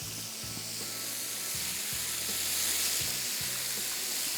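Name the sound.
beef pieces frying in a pan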